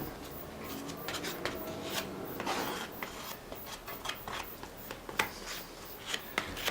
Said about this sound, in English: the beauty of these plastic cards, of course, is that the glue does scrape off nice and easily